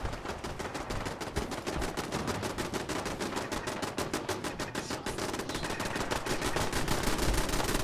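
Kismet Killbox turret gunfire in Fallout 4 rattles off as a rapid, continuous stream of loud automatic shots, steady and unbroken from start to finish.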